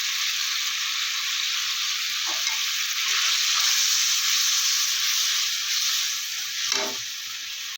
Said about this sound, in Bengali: মশলাটা কষে নিই। আর এই মশলা কষানোর সময় একটু হিং দিয়ে দিলাম।